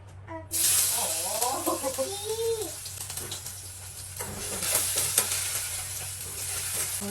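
Ginger and garlic dropped into hot sunflower oil for chicken macaroni give a sudden loud, steady sizzle that keeps crackling throughout, with a voice briefly heard near the start.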